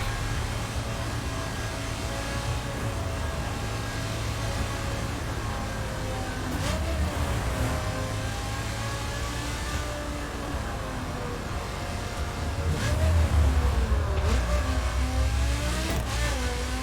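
A car cruising through virtual New York in The Crew, its engine droning steadily with shifting revs and occasional rises, loud and continuous throughout with no talk over it.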